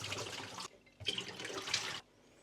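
Hot water running from a sink tap to rinse developed film, two loud close bursts of splashing flow separated by a short pause, then quiet.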